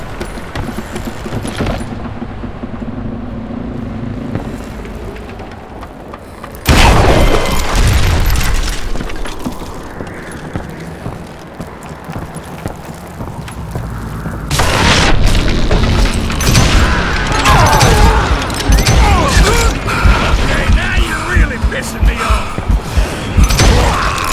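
Loud booming dynamite blasts in a video game, sudden heavy impacts that shift into a sustained rumbling roar, mixed with game sound and music over much of the span.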